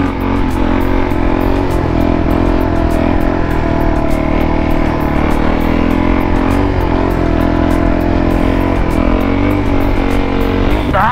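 A supermoto motorcycle accelerates off-road, its engine a loud, continuous close-up drone whose pitch climbs and wavers steadily throughout.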